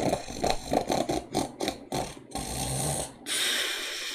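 Loud, close snoring with rattling, rhythmic snorts breaking into a longer rasping drone, heard alone without talk.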